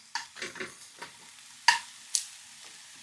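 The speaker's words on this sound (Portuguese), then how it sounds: "não vamos fritar muito, não vamos deixar dourar esse ovo" An egg frying in a pan gives a soft sizzle, broken by a few sharp scrapes and taps of a utensil stirring it.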